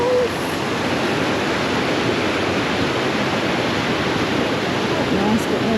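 Blurry Falls, a waterfall in a park, pours with a steady, dense roar that fills the scene evenly from start to finish.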